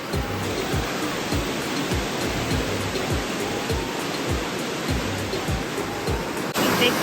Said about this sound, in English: We are at Vickery Creek Falls.